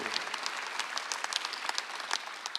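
A congregation at a Sunday church service applauds, with dense, fairly close clapping and sharper individual claps standing out, steady for a couple of seconds with no speech over it.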